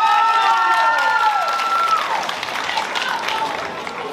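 Dense applause fills a high school freshman ball hall, loud at first and gradually thinning, with a few cheers and voices mixed in.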